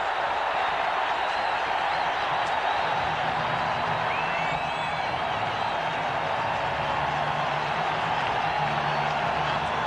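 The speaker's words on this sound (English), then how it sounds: "This crowd comes to life" Stadium crowd at a Broncos vs Raiders NFL game in 1988 roars steadily after a touchdown, a dense, constant wash of cheering and applause throughout with no clear peaks.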